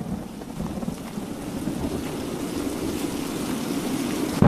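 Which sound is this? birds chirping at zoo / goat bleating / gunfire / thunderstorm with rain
thunderstorm with rain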